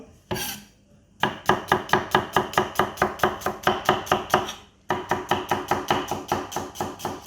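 Knife chopping an onion on a board: one short burst, then a long run of evenly spaced, crisp cuts, a brief stop, and another steady series, close and alone.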